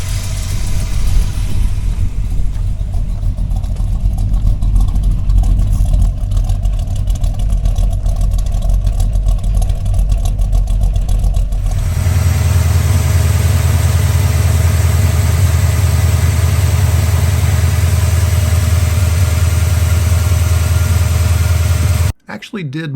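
Squarebody truck engine running steadily with a loose belt, a loud continuous mechanical drone that shifts in tone partway through and cuts off abruptly near the end.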